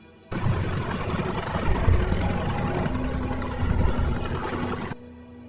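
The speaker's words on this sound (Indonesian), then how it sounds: "Dragon meminta 2 helikopternya berputar kembali." A helicopter flies overhead, making a steady, loud, dense rotor and engine roar that begins abruptly, holds for several seconds with slight swells, and then cuts off.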